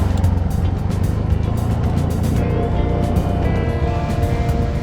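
Car driving slowly along a bumpy rural road near Nagcarlan, Laguna, a loud continuous engine and road rumble from inside the vehicle, with knocks and rattles from the uneven surface.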